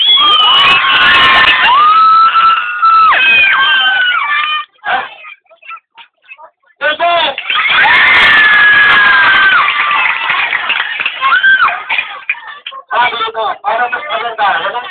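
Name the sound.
crowd of children clapping and cheering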